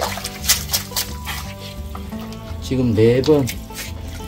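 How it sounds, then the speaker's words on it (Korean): Water trickles and drips steadily while achyranthes roots are washed by hand for a final rinse, close up, with splashes and brief bursts of pouring under someone speaking Korean. "다시 한번 더 최종적으로 씻어 보도록 하겠습니다"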